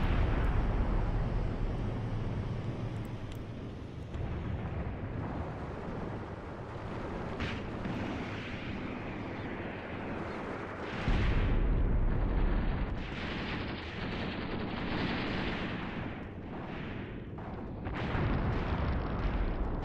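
Anti-personnel shrapnel rounds exploding in an Iran-Iraq War battle video game, a dense, continuous wash of rumbling blasts and crackling bursts layered over each other, loud and sustained throughout with no clear gaps.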